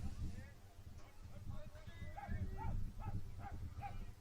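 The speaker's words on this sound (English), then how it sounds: "Got some dogs barking." Dogs bark repeatedly in a rhythmic series, faint and distant, beneath a steady outdoor hum at a high school baseball game, with a voice talking over them.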